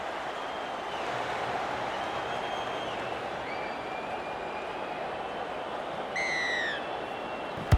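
Kick-off in a rugby league video game brings a broad, steady stadium crowd roar that hangs under the whole passage, with whistle-like tones and a brief louder swell near the end.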